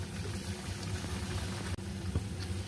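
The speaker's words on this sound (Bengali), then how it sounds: "আবারও একটা ভেজে নিলাম।" Kachori fry in a pan of hot oil with a continuous low bubbling sizzle that stays steady and close throughout, with no talk.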